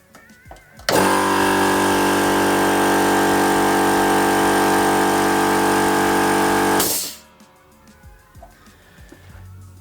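A 100-litre SGS twin-piston air compressor starts up and runs loud and steady for about six seconds with a dense mechanical drone, then cuts out abruptly, leaving quiet room noise.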